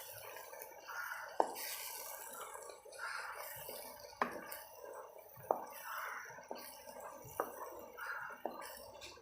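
Onion and chilli chutney is stirred slowly in a pan over a low flame, producing soft, close, wet squishing and scraping strokes that repeat in a regular rhythm about every second, fairly quiet and with no talking.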